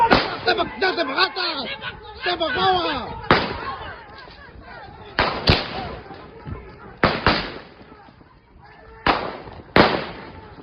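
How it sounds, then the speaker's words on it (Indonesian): Several sharp gunshot-like bangs ring out in bursts during a clash between police officers on a main road in Tual, loud and echoing, with people shouting and talking in between. "terdengar bunyi tembakan senjata api"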